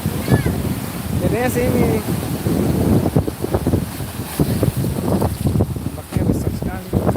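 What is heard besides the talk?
big ocean waves at a beach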